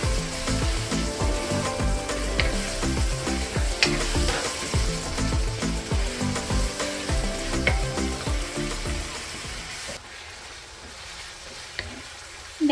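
Ground beef and sofrito sizzle steadily in a pan with repeated stirring scrapes, a dense continuous frying hiss that drops off near the end.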